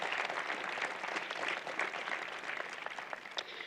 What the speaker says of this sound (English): How about a round of applause for Christopher Kyle?